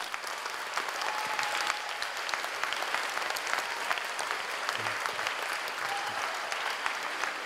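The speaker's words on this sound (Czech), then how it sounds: "tak mi zatleskejte jim taky na oplátku taky" Schoolchildren at a school anniversary show applaud parents and guests with sustained, even clapping from a large audience filling the hall.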